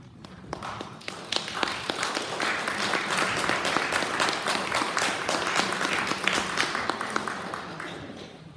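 Audience applause at a poetry reading, a dense steady clapping from a crowd in a hall that holds at full strength for about eight seconds with no talk over it.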